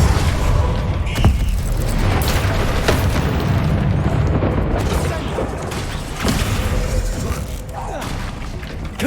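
Bombarda explosion spell cast in the video game Hogwarts Legacy, heard as dense booming blasts and bursts layered over a loud, continuous rumble of combat.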